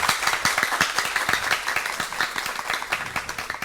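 Students at a school quiz between Lycée Jean-Marie Vincent and Lycée Jacques 1er applaud a correct answer, with sharp individual claps standing out over a steady crowd of clapping, lively and close.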